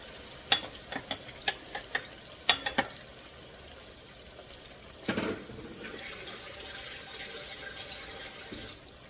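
Soft sizzling of potatoes frying in a pan, with a series of sharp clinks and scrapes early on, then a steady crackle continuing alone.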